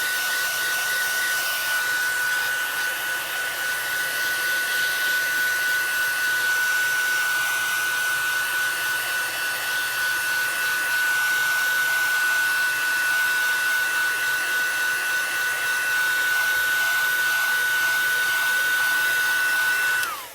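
A hair dryer runs steadily on drying paint on a craft scene, a loud continuous whir with a thin high whine held throughout and cutting off at the very end.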